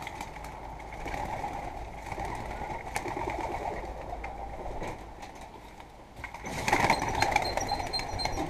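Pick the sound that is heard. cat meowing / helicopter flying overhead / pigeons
pigeons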